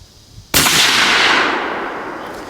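A single loud rifle shot from a Bergara B-14 HMR in .308 cracks sharply at close range outdoors, then its long echo rolls away and fades over the next two seconds.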